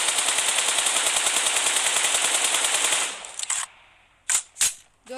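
Rapid automatic gunfire sprayed at a pole in a mobile shooter game, a loud, steady stream of evenly spaced shots for about three seconds, then a few scattered single bursts.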